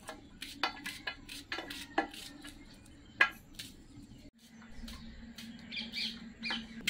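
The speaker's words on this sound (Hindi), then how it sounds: "हम प्याज काट के तैयार कर लेती हूँ पकौड़ी बनाने के लिए।" Knife chopping onions on a board in a home kitchen, with sharp, irregular taps and clicks spaced apart at close range, plus faint birdsong in the background and no talk.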